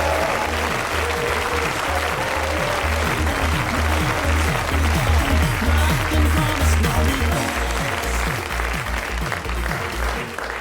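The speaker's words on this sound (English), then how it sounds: "Please give a loud cheer and cry de coeur for second best French racing driver, le très bon Michel Lambert." A studio audience at a radio comedy show bursts into sustained applause and cheering, loud and dense, while a jaunty theme tune with a thumping bass line plays underneath.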